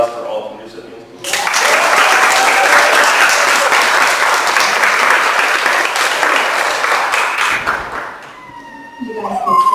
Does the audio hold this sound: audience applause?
yes